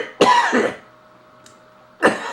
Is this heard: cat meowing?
no